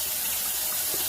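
Running water and soapy lather splash over a makeup sponge as it is washed, a continuous close hiss of flowing water like a tap filling a sink, with no voices.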